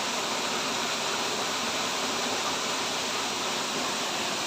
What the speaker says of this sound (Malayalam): നല്ല മനോഹരമായിട്ട് ഒഴുകുന്ന ഒരു വെള്ളച്ചാട്ടം